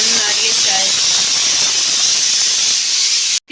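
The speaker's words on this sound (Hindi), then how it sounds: "यहाँ पे मेरे कुकर की सीटी भी बोलने लग गई है" A home kitchen pressure cooker whistle releasing steam in a loud, steady hiss that holds for about three and a half seconds, then cuts off abruptly.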